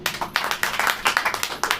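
Worshippers at a Hindi church service clap together in a quick, even rhythm, a dense run of sharp hand claps filling the room at moderate loudness.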